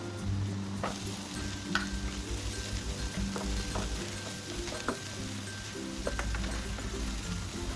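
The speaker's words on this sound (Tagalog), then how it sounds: "Igigisa po natin ang ating bawang." Garlic and onion sizzling in melted butter in a pan, a loud continuous crackle and hiss with occasional stirring clicks, steady throughout with no voices.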